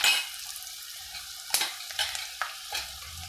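Coriander seeds sizzle and crackle in a hot pan for Berakai pachadi, with a spoon stirring and scraping in several distinct strokes over a steady close frying hiss; no voices.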